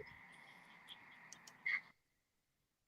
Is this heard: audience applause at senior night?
no